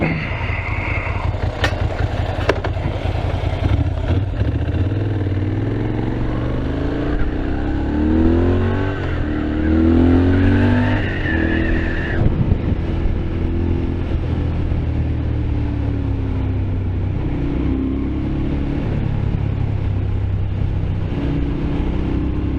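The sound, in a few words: motorcycle engine running, rattly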